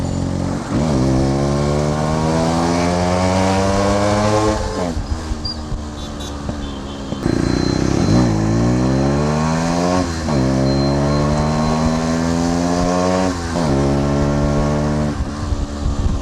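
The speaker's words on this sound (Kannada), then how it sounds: "ಗೇರ್ ಡೌನ್ ಮಾಡಿದಷ್ಟು RPM ಜಾಸ್ತಿ ರೈಸ್ ಆಗೋಗ್ಬಿಡ್ತಿದ್ರಲ್ಲಿ ಓವರ್ಟೇಕ್ ಹೊಡಿಯೋಕ್ಕೆ ಎಲ್ಲ" An RX motorcycle two-stroke engine revs hard after gear downshifts, rising in pitch in repeated sweeps with short drops between gears, loud and close throughout.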